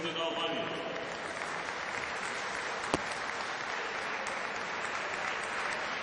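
A crowd at an international wrestling tournament final in Skopje applauds steadily to greet the national delegations, a dense, even clatter of clapping that fills the whole stretch with a voice faintly present beneath it.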